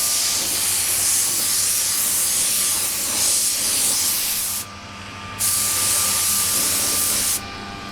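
A cheap $10 spray gun sprays pearl paint onto a small Yamaha FZ600 motorcycle part. A loud, close, continuous hiss of air and paint breaks off twice for brief pauses before starting again.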